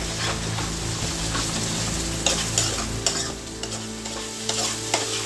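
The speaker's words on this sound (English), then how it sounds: "Now let this fry." Chole masala fries in a pan as it is stirred, a dense, steady sizzle filling the whole stretch, with a few soft scrapes and clinks of the spoon standing out near the end.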